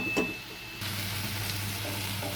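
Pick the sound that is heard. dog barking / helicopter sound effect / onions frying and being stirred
onions frying and being stirred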